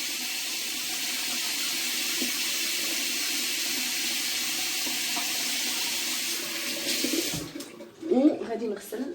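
A bathroom tap runs warm water steadily while someone rinses their face, a constant close hiss that cuts off near the end, followed by splashing and a brief voice.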